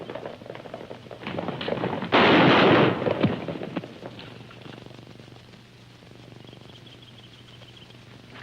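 In a western film, soldiers fire a volley of rifles on a colonel's order: one sudden loud, crashing burst of overlapping shots, trailing into a fading rumble and quieter ambience.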